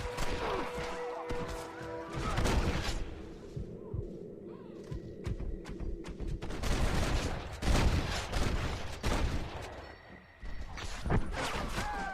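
Gunfire in the Red Dead Redemption video game, a busy shootout of repeated shots and crashing impacts over a loud, constant background din, with shots clustered through most of the clip.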